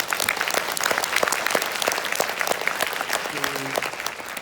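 Audience at a film premiere for the musical movie Hero applauds the cast, continuous close clapping filling the room, with a brief murmur of voices near the end.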